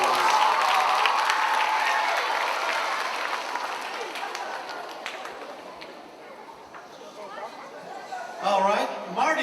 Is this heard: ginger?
no